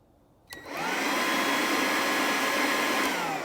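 A SnapFresh leaf blower with its nozzle removed kicks on and quickly ramps up to a loud, steady, rushing roar of air that holds constant, up close and with no talking.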